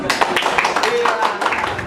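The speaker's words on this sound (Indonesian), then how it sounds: "Tepuk tangan semua." Audience applause at a parish altar-server committee election, a steady burst of clapping from a room full of people, fairly loud and continuous for a couple of seconds.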